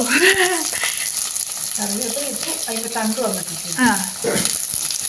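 Curry leaves fry in a hot pan with a steady, dense crackling sizzle throughout, while a voice talks over it close by.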